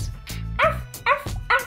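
A toy puppy, a wind-up racing dog set behind a starting gate, gives three short electronic yaps in quick succession, loud and close.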